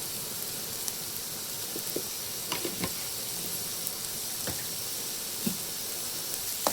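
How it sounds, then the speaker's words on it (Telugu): Onions, curry leaves and green chillies sauté in a pan with a continuous soft sizzle, punctuated by scattered light pops and stirring taps; no one speaks over it. "ఇప్పుడు మగ్గటానికి, ఉల్లిపాయలు మగ్గటానికి ఫ్రెండ్స్"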